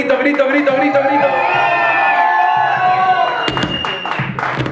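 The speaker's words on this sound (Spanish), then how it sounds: "ese aplauso grandote" A large live audience cheers and applauds for a performer at a bohemian music night, a loud sustained burst of clapping and shouts mixed with voices.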